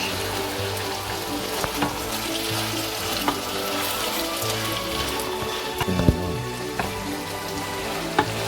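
Ackee and saltfish frying in a pan, a dense close crackle and sizzle with occasional knocks and scrapes from a utensil, no voices.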